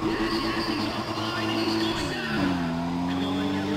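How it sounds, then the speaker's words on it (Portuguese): A tuned Toyota Supra in the racing game Need for Speed The Run gives a steady, loud engine roar with a pitch that dips and settles, and faint tire noise underneath. "Olha o ronco dele aí. Ele é um ronco de carro de verdade."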